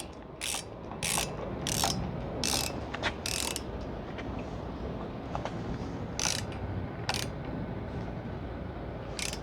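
A ratchet clicks in repeated short bursts while a screw is tightened on a Honda Rebel 1100 batwing screen cowl, the sharp pawl ticks near and clear over a steady low background hum.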